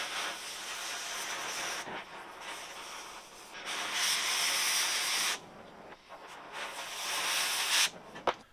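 Oxy-acetylene torch cutting through large steel pipe with the acetylene set too high, giving a steady close roaring hiss that swells and dips in several bursts with brief breaks, no talk.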